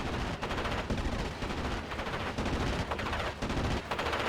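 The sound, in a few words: aircraft gunfire from ME 109 in Steel Division Normandy 44 video game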